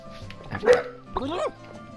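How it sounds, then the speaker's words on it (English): A dog in the video game Octodad gives two close barks, the first short and sharp, the second a longer yelping bark, over faint game music. "Silence, puppy."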